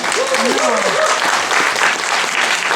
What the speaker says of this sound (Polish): To w brawo na początek, tak?